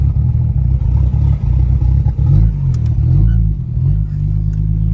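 Turbocharged BMW 535i making about 640 wheel horsepower, its engine revving hard under load with a steady deep drone that swells and dips as boost builds, loud and close with no talking.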